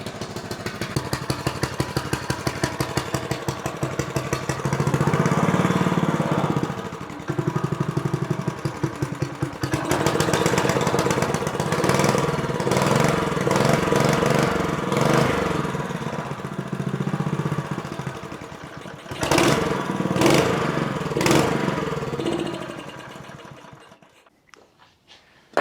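A small Honda engine on a go-kart running and idling after a repair, a steady mid-pitched putter with brief revs near the middle and end before it dies away.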